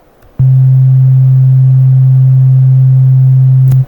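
A single pure electronic tone starts abruptly and holds at constant loudness for over three seconds before cutting off cleanly.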